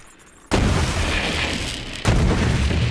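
Grenades in the Borderlands 3 video game go off as two heavy, booming explosions, the second one sharp and loud after a short sustained rumble.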